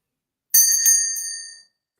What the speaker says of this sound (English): Let's start with our little bell real quick.